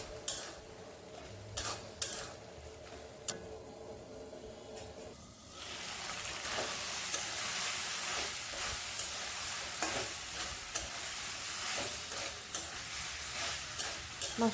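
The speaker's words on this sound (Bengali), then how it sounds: "ঢাকনা উঠায় মশলাগুলোকে ভালো করে কষাই নিলাম।" Spices stir-fried in a pan for pabda fish curry with potato and drumstick, soft scraping and ticking at first, then a steady louder sizzle with repeated spatula scrapes and clicks against the pan, fairly close.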